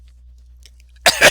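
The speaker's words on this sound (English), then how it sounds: "Also cough like crazy." A single short, sharp cough bursts out at the end of a mostly quiet stretch, close and fairly loud, from a lone person during a math lecture, with faint small clicks before it.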